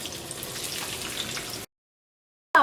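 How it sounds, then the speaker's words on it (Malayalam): Sliced onion, ginger, garlic and green chilli sautéing in hot oil for chicken curry, a steady close sizzle and crackle that cuts to silence, then a brief louder burst at the end. "ഈ ചൂടായ ഓയിലിലേക്ക് സവോളയും ഇഞ്ചിയും വെളുത്തുള്ളിയും പച്ചമുളകും ചേർത്തിട്ടൊന്ന് വഴറ്റിയെടുക്കുക."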